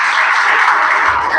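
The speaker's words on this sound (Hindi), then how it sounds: "एक बार जोरदार तालियां" Brief, steady applause from a gathered group at an academy celebration honouring a student's final selection: a dense wash of many hands clapping together, loud and close, with no pauses across the short burst.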